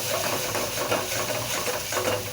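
Spices (turmeric, salt and dried red chilli powder) are stirred with poya fish in a pan, giving a low, continuous sizzle with soft scraping under a steady background hum; no talking.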